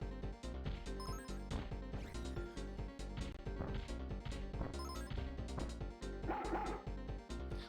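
Dog barking from a Toy Story video game, repeated yips and barks over continuous game music and crashing effects, loud and steady throughout.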